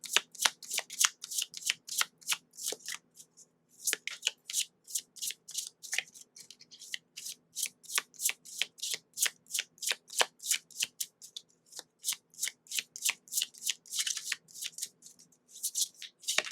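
Oracle cards from a Magic of You deck being shuffled by hand in a steady run of quick riffling, crisp bursts with a few brief pauses, close and clear with no talking.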